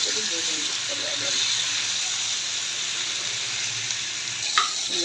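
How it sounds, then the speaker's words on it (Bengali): Green banana pieces and potatoes fry in hot oil with salt, giving a dense, constant close-up sizzle with a soft stir and a small clink near the end. "এখন কলাগুলোকে আমি ভালো করে ভেজে নিতে হবে"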